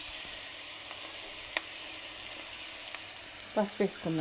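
Food fries quietly in a pan, a faint even sizzle with a few light knocks, before a voice briefly speaks at the end.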